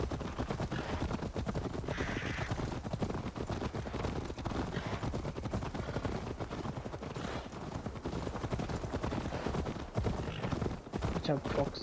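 Mounted Vikings' horses gallop in Assassin's Creed Valhalla, a continuous rhythmic clip-clop of hooves under other game noise, with a voice talking over it.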